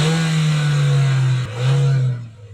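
A 2019 Kia Sportage's 1.6 litre four-cylinder petrol engine revs loudly up close, holding a steady throaty drone, briefly dipping, then rising again before dropping away at the end.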